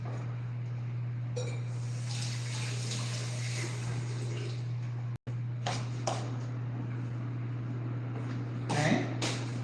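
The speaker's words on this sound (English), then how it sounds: "Let me wash this tomato." Tap water runs while a tomato is washed, a soft steady hiss of flow with faint splashes and handling clatter over a constant low hum, with a brief pause midway.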